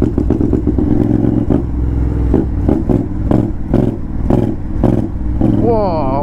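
Honda X-ADV scooter ridden at night in Paris, its loud engine droning and surging with repeated revving and clattery bursts throughout, steady and close.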